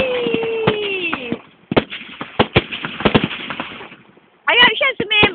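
Fireworks at a Jubilee celebration in Lindfield burst as a rapid run of sharp cracks and bangs, some close together and some spaced out, with whistling rockets near the start. A short pause follows, then a dense crackling volley. Excited voices cheer over the display.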